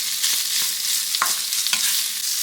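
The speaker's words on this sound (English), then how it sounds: "you want to get this cooked in and let that beef start heating up" Leftover beef for a Tex-Mex meal fries in a pan with a steady, bright sizzle, broken by a few scraping stirs and light clicks close by.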